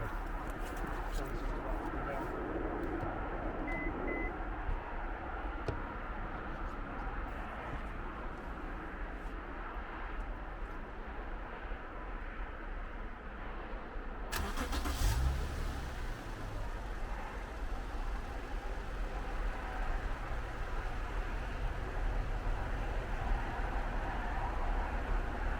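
A John Deere mower engine is started outdoors in freezing cold of about -20°C. A steady wash of outdoor noise runs first, then partway through the engine catches and a fuller, steady running sound continues to the end.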